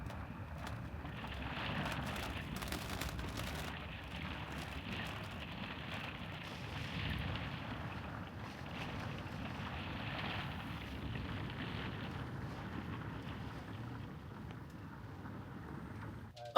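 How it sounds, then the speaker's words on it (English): Strong storm wind buffets a parked RV with its legs down in Portugal, a continuous low roar and rushing noise that swells and eases gently for the whole stretch, with no voices. "show you guys the sounds of the wind"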